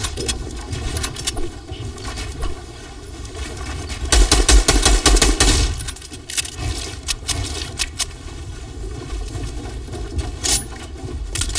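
Rapid bursts of gunfire in the Fortnite video game crackle throughout, with a louder, denser volley near the middle over a steady background hum of game sound.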